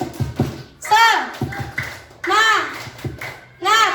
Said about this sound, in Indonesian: yuk kita kasih dulu tepuk semangat untuk kelompok yang maju pertama